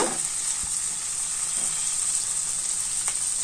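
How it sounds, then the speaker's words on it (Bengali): Raw mango pieces fry in oil over low heat, giving a steady, even sizzle with a few soft scraping stirs. "এবারে এর ভেতরে আমি দিয়ে দিচ্ছি কেটে রাখা আমের টুকরোগুলো একটু নেড়ে চেড়ে নিচ্ছি"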